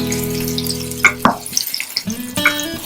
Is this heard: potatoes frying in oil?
yes